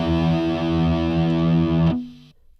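A synth with a dirty distortion effect preset holds a thick, buzzy, harmonically rich tone that cuts off abruptly near the end and leaves a short fading tail.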